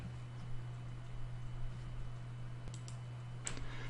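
A few faint, crisp computer mouse clicks sound in a quiet room over a steady low hum, with the sharpest clicks landing close together near the end.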